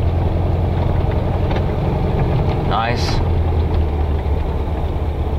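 Engine of a 1969 Baja Bug with a mild tune, running steadily on a woods trail; a continuous low rumble fills the clip while someone speaks briefly over it.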